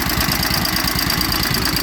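A 1945 Cushman model 54 scooter engine runs nearby, a loud, steady, rapid putting and chugging with a rough mechanical rattle and no voices.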